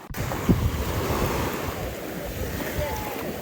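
Steady rush of Black Sea surf washing onto an Odesa shore, with wind buffeting the microphone throughout and no voices.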